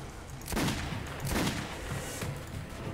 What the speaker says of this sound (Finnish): Joku ampui sen!